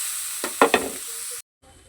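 Grated carrot dropped into hot ghee in a wok, a brief burst of sizzling with a few stirring scrapes, fading out after about a second.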